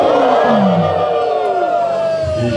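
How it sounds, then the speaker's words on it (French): A church congregation at an Ascension Day celebration cheers and roars loudly together, a dense, sustained crowd noise with rising voices that fills the whole moment without pause. "Applaudissons! Applaudissons! Applaudissons!"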